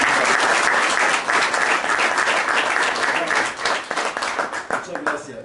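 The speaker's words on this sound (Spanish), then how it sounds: "Yo les pido un aplauso para el compañero." An audience at a talk about the Kurdish people and the Middle East breaks into loud, sustained applause, a dense wash of many clapping hands that slowly thins toward the end.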